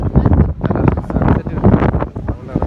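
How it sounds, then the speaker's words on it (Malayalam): Strong wind buffets the microphone at a hilltop viewpoint near sunset, producing a loud, continuous rumbling roar with gusty surges throughout. "നല്ല കാറ്റുണ്ട്."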